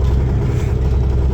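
An Ultranautics Jetstar jet boat engine runs steadily at a launch, a loud, close, continuous low rumble with slight clatter and no voices.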